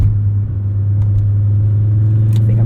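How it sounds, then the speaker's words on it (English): A 1997 Volvo 850R's five-cylinder engine hums with a steady low drone and rumble from inside the car while driving, holding even without a clear rev rise, no speech. "we'll listen to this 5-cylinder sing"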